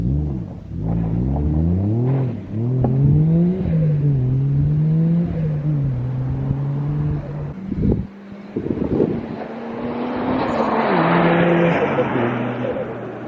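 Imported Toyota Chaser revving through several gears as it approaches, then roaring past the camera and fading into wind noise; loud and building, no talking.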